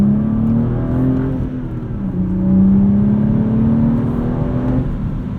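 A modified 2016 BMW 435i with a 6-speed manual pulls hard on the street, its engine drone rising and falling steadily from inside the cabin, loud and continuous with no voices.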